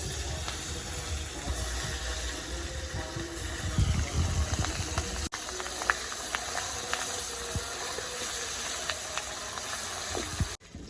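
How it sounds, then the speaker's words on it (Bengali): Steady hissing sizzle of fish frying in mustard oil in a wok, continuous throughout with occasional faint clicks and pops, no voices. "মাছগুলো এক এক করে ছেড়ে দিব তেলে"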